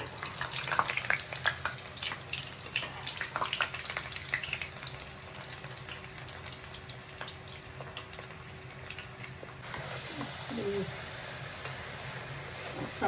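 Flour-coated potato chips for farali chilli potato deep-fry in hot oil over a high flame, a steady close sizzle that runs for a long stretch before thinning out, with a little clatter near the end.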